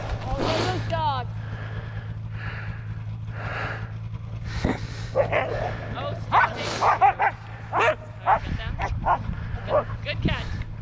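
Sled dogs bark and yip excitedly at a sledding lodge in Eagle Lake, Maine, with sharp close barks bursting in rapid irregular clusters over a low engine-like rumble, while people talk and call out nearby.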